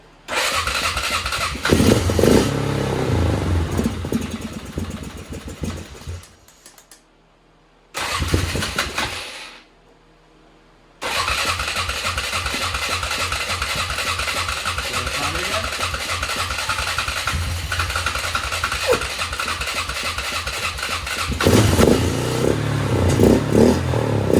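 A 2004 Polaris Scrambler 500 ATV engine cranks and starts, then runs loud and close at a rough idle, cutting out twice and restarting before revving steadily.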